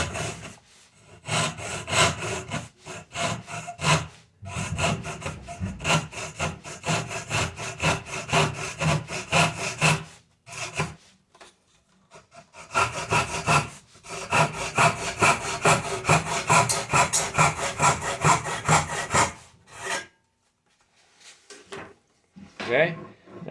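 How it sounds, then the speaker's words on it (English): A hand saw makes a bevel cut through an unclamped wooden piece, with long runs of rapid rhythmic rasping strokes broken by short pauses, close and loud, ending with a few scattered scrapes. "This is our bevel cut, and I'm going to go right down, tilting my saw as I go down this cut."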